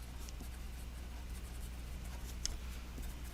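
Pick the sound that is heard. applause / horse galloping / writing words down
writing words down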